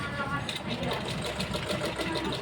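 A sewing machine runs steadily, stitching a side pocket onto a pair of half-pant shorts, its rapid needle rhythm continuous and close throughout.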